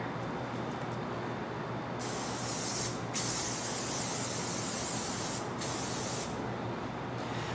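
Steady hissing spray of contact cement from an aerosol can in long continuous bursts with brief pauses between them, applied to a Chevrolet 454 big-block intake manifold gasket surface, close and fairly loud, no talking.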